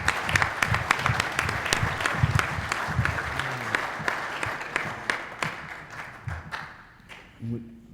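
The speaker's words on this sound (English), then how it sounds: "Please applaud Dr." An audience at a talk on fathers, Black men and boys breaks into sustained applause, dense overlapping claps close and loud for several seconds before thinning into a few scattered claps and fading out.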